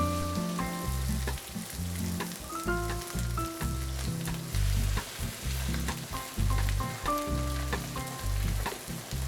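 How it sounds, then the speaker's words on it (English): Steady loud sizzling of beef frying in a hot pan, with a dense crackle running throughout and occasional scraping or stirring clatter. "You want to see some action in the pan, so let the meat sizzle."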